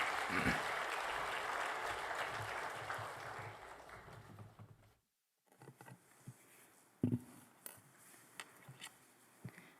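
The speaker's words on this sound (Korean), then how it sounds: "우리 성도님 나오실 때 여러분 큰 박수로 환영해 주시겠습니다." A church congregation welcomes a member to the front with a warm round of clapping, dense and sustained at first, then fading and stopping, followed by scattered shuffles and small knocks in the quiet sanctuary.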